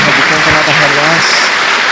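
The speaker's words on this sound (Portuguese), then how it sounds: "Dê mais uma salva de palmas a Jesus." Church congregation applauding Jesus during a sermon, a dense, loud wash of clapping that fills the whole stretch, with a voice briefly heard over it.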